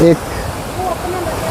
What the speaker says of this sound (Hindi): एक पानी का झरना बनाया है, बड़ा शानदार